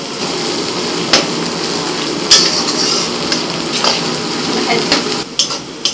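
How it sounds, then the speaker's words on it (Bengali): A large batch of onions frying into crisp beresta for chicken biryani hisses loudly and steadily in hot oil, broken by sharp metallic scrapes and knocks of a utensil against the pan. "বেরেস্তা ভাজা হয়ে গেছে,"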